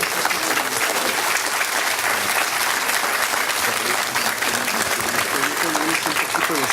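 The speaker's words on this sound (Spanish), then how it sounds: "recibe a nuestro gran amigo, el maestro Juan Díaz de la Torre, con un fuerte aplauso" Teachers of Nuevo León welcome speaker Juan Díaz de la Torre with a strong, sustained round of applause, dense and even throughout, with crowd voices and cheering mixed in beneath the clapping.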